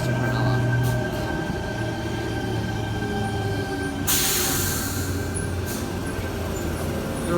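A Sydney T36 train rumbles steadily into platform 4 with a low, continuous rolling drone and a faint high whine, punctuated by a burst of hissing partway through.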